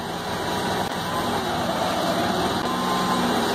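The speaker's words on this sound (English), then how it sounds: "I'm gonna blip the throttle. I'm just gonna twist it a little bit here." Gas motorcycle engine running steady and close, with a continuous rumbling hum and a slight swell as the throttle is blipped, no talking.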